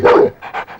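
A dog named Johnny gives a short burst of barking: one loud, close bark followed by two or three quicker, softer yaps.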